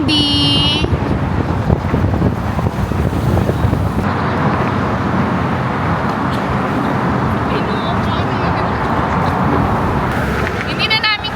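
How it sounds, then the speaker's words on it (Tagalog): Strong, cold wind near the Golden Gate Bridge in San Francisco buffets the microphone in loud, continuous rumbling gusts, with a voice briefly audible at the start. "super lamig dito at super windy"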